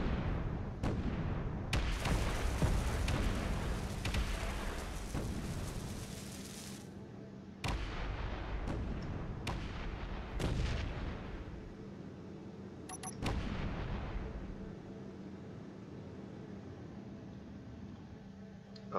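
Rapid weapon fire aimed at turrets in the Space Engineers game, a dense roar of blasts for about seven seconds, then repeated sharp bangs and booming impacts, loud and close.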